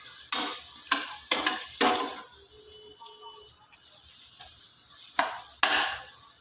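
Mutton pieces stirred in an oil-coated pan for a spicy chirraku mutton fry, with sharp scraping strokes of the spoon recurring in bursts over a soft background sizzle, close and fairly loud.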